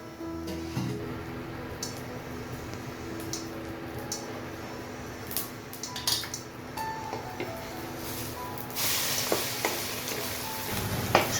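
Egg and onions sizzle steadily in a frying pan, with soft scraping stir strokes and occasional utensil clicks against the pan, close and continuous with no talking.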